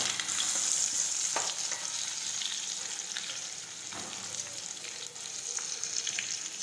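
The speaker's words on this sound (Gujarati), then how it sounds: "હવે આપણે સાંતળી લઈશું।" Stuffed okra, added to hot oil tempered with mustard seeds, cumin and asafoetida, fries with a steady close sizzle, broken by faint stirring scrapes throughout.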